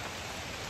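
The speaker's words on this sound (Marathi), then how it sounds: "बापरे जोरात पाऊस आला." Heavy monsoon rain pours down near Waghbil waterfall in Badlapur, a dense, steady hiss of drops heard up close for a moment, with no talking.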